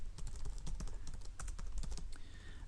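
Typing on a computer keyboard while writing jQuery code, a quick uneven run of close, light key clicks heard alone.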